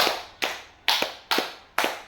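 A group of teachers performs the tepuk 5 clapping pattern, crisp unison claps in a 2-2-1 rhythm, close and loud with short pauses between each clap and no voices.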